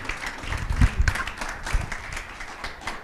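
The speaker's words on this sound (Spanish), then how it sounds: "un aplauso a la doctora, por favor, si se ha merecido" An audience at a medical talk on childhood headaches gives a doctor a short round of applause, moderately loud and fairly even, with a few low thumps near the start.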